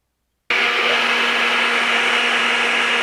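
Countertop blender whirring loudly and steadily after a short silent start, churning gazpacho with a drizzle of olive oil in a home kitchen.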